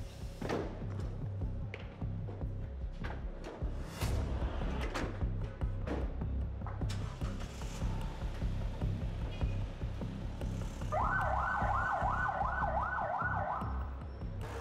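A fire engine siren wails in a fast, rising-and-falling pattern as firefighters hurry out of the station, starting after a stretch of busy clatter and continuing loudly to the end.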